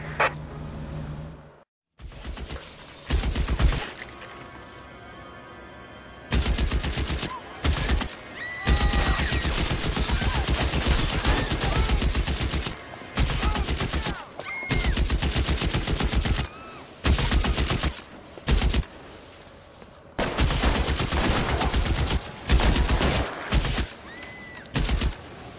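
Gunfire in the L.A. Noire video game: long bursts of rapid automatic shots with brief pauses between volleys, loud and dense across the whole stretch, with no talk over it.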